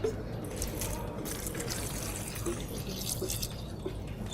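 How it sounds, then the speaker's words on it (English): Liquid pours steadily into a pot of upright pears for poaching, a soft continuous splashing trickle heard alone and fairly faint throughout. "And then she'll pour that liquid on top of them."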